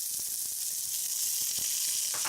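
Shrimp sizzling in a hot stir-fry pan with vegetables, a steady bright hiss and crackle throughout, broken by faint stirring knocks, with no voices.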